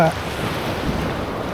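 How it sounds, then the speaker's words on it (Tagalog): Strong surf rolls in at a white sand beach in Dinadiawan, Aurora, sounding as a loud, continuous wash of breaking water mixed with gusty wind buffeting the microphone, no voices heard. "Lakas ang alon na yun oh."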